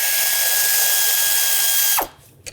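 A powered ratchet backs a 10mm bolt out of a 3.5L V6 Nissan Pathfinder engine during a rear valve cover replacement. It gives a steady, loud mechanical whir for about two seconds, then cuts off abruptly and leaves quiet.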